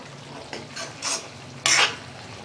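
A spoon stirs thick cauliflower gravy in a pot, giving a few short, close scraping and squelching strokes, the last one loudest, over a quiet simmer, with no talk.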